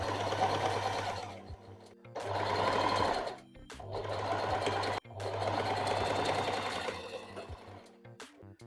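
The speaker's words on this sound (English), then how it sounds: "what you see me doing here is skipping over them as I get to them rather than stitching on top of them" A sewing machine runs close by, stitching the seam of a t-shirt being taken in, with sleeves being reattached. It gives four bursts of fast rhythmic mechanical chatter separated by short pauses.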